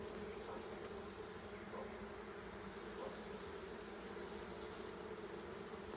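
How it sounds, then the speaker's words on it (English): Honeybees fan their wings inside a white hive, making a dense, continuous buzzing drone that stays steady and fairly quiet throughout, with no talking. "I don't know why they're flapping their wings like this."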